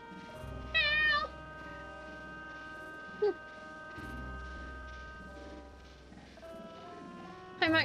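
A pet cat named Foxy meows briefly at close range, a couple of short harmonic cries with a final one at the end, over steady background noise; purring is not evident.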